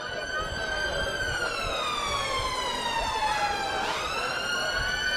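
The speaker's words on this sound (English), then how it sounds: "we're following up with an emergency ambulance, and that comes through blues and twos with" A loud wailing UK emergency ambulance siren, its pitch sliding steadily downward and then jumping back up, heard continuously over road noise at a staged road accident demonstration.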